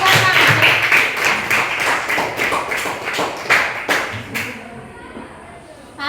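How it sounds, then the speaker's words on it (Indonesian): Class of ninth-grade students clapping together in a classroom, a brisk run of sharp, uneven hand claps that slows and thins out toward the end, with no talk over it. "Oke, tepuk tangan untuk kita semua."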